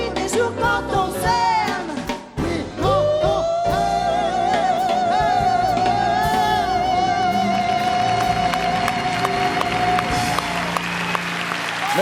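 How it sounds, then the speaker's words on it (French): Studio audience applause on a French television variety show, a steady dense clapping that swells after a brief dip and holds loud, with a lingering musical tone underneath. "Applaudissements."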